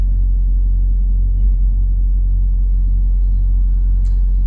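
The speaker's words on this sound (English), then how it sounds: "Two trucks in a hurry trying to race around each other in a truck stop." Two trucks race around each other at a windy Wyoming truck stop, a loud, continuous low diesel rumble close by, with no voices.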